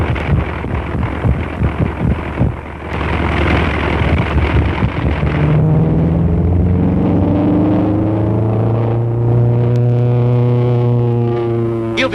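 A small airplane's engine runs rough with engine trouble, a droning, wavering whine that sweeps and pulses as it passes, heard amid wind-like rushing noise with no talking.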